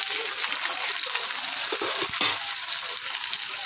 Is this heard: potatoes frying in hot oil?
yes